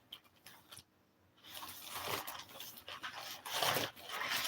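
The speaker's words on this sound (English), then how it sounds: "I gotta take my dog out of his cage" A dog in a cage pants in rapid, breathy bursts close by, after a brief quiet pause, with no talking.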